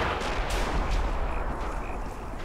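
Mortar fire in the video game Men of War Assault Squad 2 comes through as a dense, continuous rumble of distant explosions and gunfire. Several sharper blasts stand out against the battle noise.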